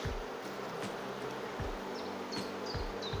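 A dense, continuous buzz of a honeybee swarm fills the clip, close and steady, with occasional soft thumps and rustles beneath it.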